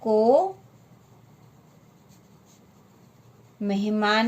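A pen scratches steadily on paper while a Hindi worksheet answer is written out: a faint, close scratching that runs for about three seconds, with a person talking just before and after.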